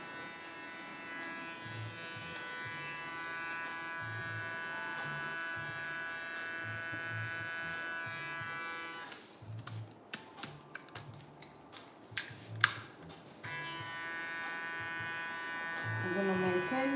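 Electric hair clippers fitted with a 9 mm guard buzz steadily while cutting a woman's bob, a constant hum broken midway by a stretch of small clicks and snips before the buzzing resumes.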